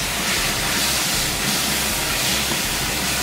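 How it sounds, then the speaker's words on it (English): Sherry hits a hot pan to deglaze it for a prime rib sauce, producing a loud, continuous sizzling hiss that stays constant throughout without any talking. "Okay, so here we go with the sherry. Just about an ounce. Just to deglaze this."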